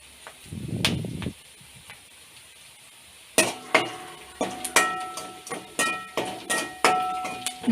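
Onions frying in a pan for a drumstick gravy, a brief sizzle followed by a string of rhythmic clinks and scrapes as a spoon stirs them against the metal, close and fairly clear.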